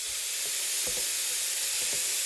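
Ground beef fries in a stir pot with a constant close, loud sizzle and hiss, and a few soft scraping knocks as it is stirred, with no voices.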